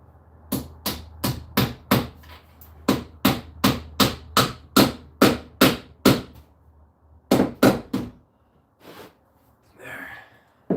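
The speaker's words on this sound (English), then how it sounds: "Nail that clamp" A hammer strikes nails into a clamp in a fast run of about fifteen sharp, loud blows, a pause, then a few more hits, with brief vocal sounds near the end.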